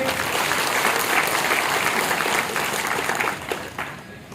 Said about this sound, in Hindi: तो एक बार जोरदार ढंग से जरा ताली बजा के आप स्वागत करिए